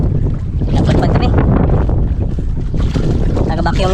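Strong wind gusting at sea buffets the microphone on a small fishing boat, producing loud, continuous rushing and rumbling with waves and boat noise mixed in, and a voice speaking over it.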